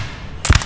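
Musket fire in a Napoleon Total War battle, a quick cluster of three or four sharp, loud crackling shots at the end of a brief moment of low rumble.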